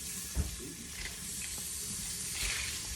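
Onions added to a hot electric pressure cooker pot after bacon, frying in the fat with a soft, steady sizzle and hiss, a faint clunk near the start and light clatter, fairly quiet and without talk.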